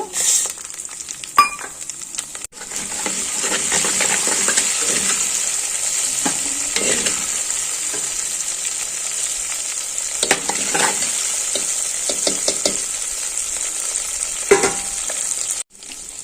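Dried red chillies, mustard seeds, cumin and curry leaves crackle in hot oil in a clay pot, a loud continuous sizzle with scattered pops and occasional stirring scrapes throughout.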